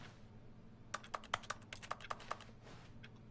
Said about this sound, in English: So the typewriter sounds.